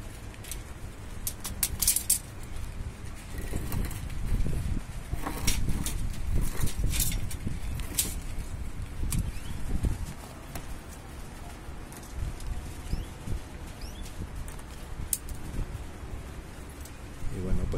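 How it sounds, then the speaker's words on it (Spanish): Heavy rain pours steadily with a dense, low rushing roar, loud and continuous, scattered with sharper taps and splashes close by. "se escucha perfectamente que el agua está muy fuerte, el aguacero"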